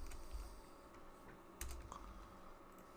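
Quiet, brief bursts of typing on a computer keyboard, a few light key clicks spread over a few seconds with no talking.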